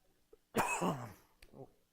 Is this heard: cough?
yes